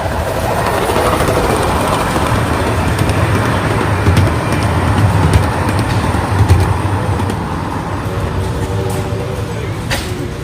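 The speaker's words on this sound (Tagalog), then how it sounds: "Train. Wow. Yes, that's train tracks. Very long train tracks." A train rolls past on railroad tracks at a county fair, a loud, continuous rumble with rhythmic clickety-clack of wheels over rail joints lasting throughout, close by.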